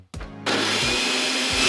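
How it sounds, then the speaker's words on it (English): A household blender, switched on by remote, kicks in after a short low thump and runs as a loud, steady, whirring roar to the end, close by and alone. "I've even got a remote for my blender."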